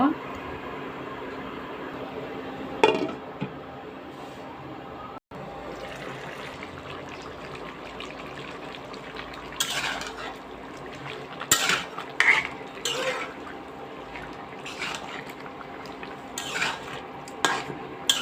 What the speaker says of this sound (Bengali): মূলা বেগুনগুলো সুন্দর করে কষিয়ে নেব